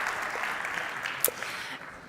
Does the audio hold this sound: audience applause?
yes